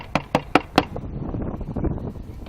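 Four quick, sharp knocks on a birdhouse in an even rhythm, close and fairly loud, followed by a low, quiet rumble of background noise.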